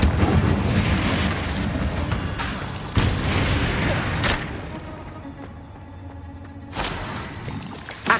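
Repeated booming spell blasts from Confringo, a fire spell in the video game Hogwarts Legacy, erupt in loud bursts over a dense, rumbling battle din, with a final sharp blast at the end.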